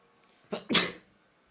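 A single sharp sneeze bursts out close by, a quick intake followed by a loud explosive release, then quiet.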